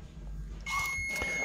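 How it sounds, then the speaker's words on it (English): A KR-S80LC-BT Bluetooth door lock's buzzer gives a single faint electronic beep that holds as a steady tone over quiet room background. "So if I don't want it to make that beeping sound when I open it, you can disable the buzzer."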